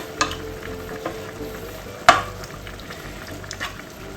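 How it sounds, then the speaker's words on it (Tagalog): Bitter gourd sizzles and crackles quietly in hot oil, with a few sharp pops and stirring clatters breaking the soft frying hiss. "Ito po yung masarap na prito sa sariling mantika."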